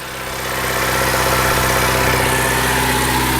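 A Ford Ecoboost engine in a DeLorean, freshly tuned, idles steadily with a dense, even mechanical hum and low rumble, close and loud, with no voices.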